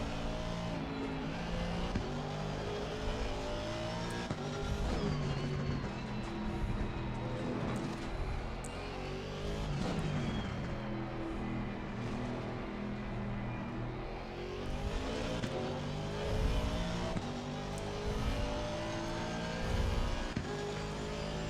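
Race car in Assetto Corsa Competizione sim racing, a continuous loud engine drone rising and falling through gear changes and revs for the whole stretch.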